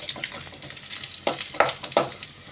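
Curry leaves fry in a pan and crackle softly as they are stirred. Several distinct scraping strokes of a spoon against the pan sound close over a low, steady sizzle.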